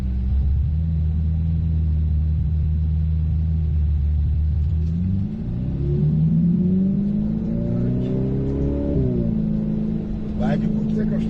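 A Ferrari F8 Tributo pulls away gently on the Nogaro race track, its engine a low steady rumble that rises in pitch through the revs, with people talking in the cabin over the engine.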